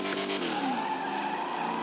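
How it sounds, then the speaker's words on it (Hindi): Toyota Innova tires skidding and squealing against a speed bump in GTA 5, a steady, loud screech with a rising, then falling whine, held throughout with no talking. "यहाँ पे स्किट मारना चालू हो चुका है गाड़ी का"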